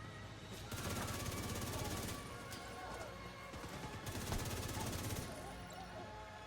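SMG fire in The Division 2, with long rapid bursts of automatic shots that come in two main strings separated by short pauses, moderately loud, while someone talks over the gunfire.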